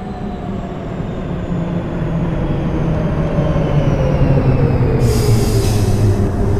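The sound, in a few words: subway train at 72nd Street station in OpenBVE train simulator game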